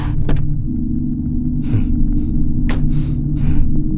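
A car engine rumbles steadily and loudly with a low drone, punctuated by a few brief hissing bursts.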